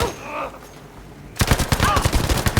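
Rapid automatic gunfire from the video game Battlefield V bursts in after a quieter lead-in, a close, loud fusillade of repeated shots rattling in quick succession.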